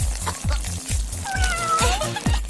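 Fluffy pregnant cat meowing repeatedly in short, close, fairly loud calls, a few rising and drawn out, over a low rhythmic background thumping and faint trickling.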